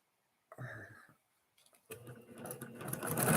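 A sewing machine stitching fabric pieces together for a pillow, a short whirring burst, a pause, then a longer run of rapid motor stitching that grows louder toward the end.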